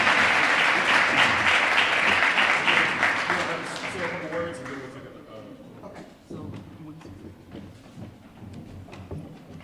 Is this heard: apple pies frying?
no